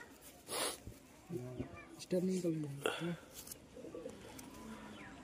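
Desi Giribaj pigeons cooing in a loft, a few low, soft coo phrases repeating close by amid background noise and brief handling sounds, with a person speaking nearby.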